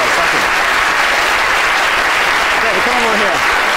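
Loud, continuous applause from a crowd, with occasional cheers and voices mixed into the clapping.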